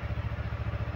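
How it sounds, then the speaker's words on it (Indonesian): A used Yamaha R25 motorcycle engine idles close by, a steady rhythmic low throb pulsing evenly throughout with light mechanical clatter on top. "sekarang mesinnya sudah hidup"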